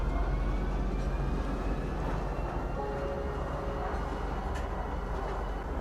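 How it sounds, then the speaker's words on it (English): A train in the Star Citizen game pulls into a spaceport station, heard as a steady low rumble with a few faint tonal whines drifting above it, continuous and fairly close. "Now arriving, Tisa Spaceport. Please watch your step when disembarking the train."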